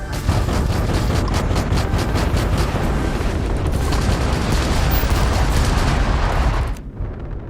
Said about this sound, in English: Are my auto turrets firing? Oh, they are!